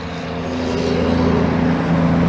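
Twin Mercury 225 outboard engines on a 2020 Boston Whaler 270 Dauntless cruising at 3,000 RPM, a steady loud droning hum with a low tonal buzz that holds even throughout, with no voices.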